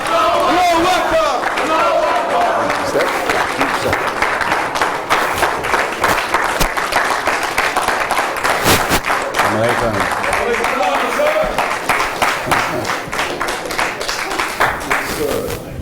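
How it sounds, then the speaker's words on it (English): A memorial event crowd breaks into loud, sustained applause mixed with cheering and shouted calls from the audience, continuous across the whole stretch. "Bring him over with a big old round of applause"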